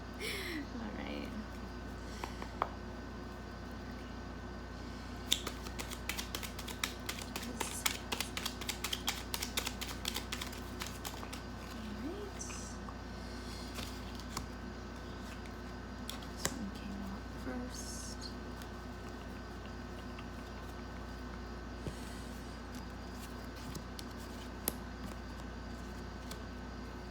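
Tarot cards being shuffled, heard as a long run of soft, rapid clicks and riffling snaps, denser in the middle, with a voice talking over it.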